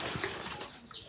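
Two pigeons' wings flap in a brief, close fluttering burst outdoors on a rural hillside morning, a soft rapid whir with no voices.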